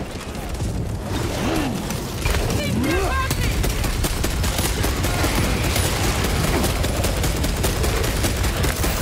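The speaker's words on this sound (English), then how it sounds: "Hey guys, I've got a Gatling gun." Gatling gun firing in Warhammer 40K Space Marine 2, a loud sustained rapid-fire rattle of shots with booming impacts, close and continuous, with game voices heard underneath.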